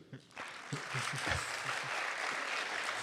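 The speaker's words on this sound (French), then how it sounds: "Et on peut les applaudir." An audience breaks into applause at a talk event in La Baule, building quickly after a voice and continuing as steady, fairly distant clapping.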